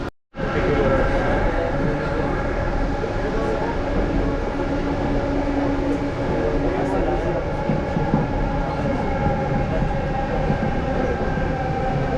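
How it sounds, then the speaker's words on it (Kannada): A metro train arrives at a station at night, a loud, steady rumble of wheels and carriages that carries on without a break. A faint voice sits under the noise. "ಇನ್ನು 1 ಮಿನಿಟ್ ಬರುತ್ತೆ ಟ್ರೈನ್"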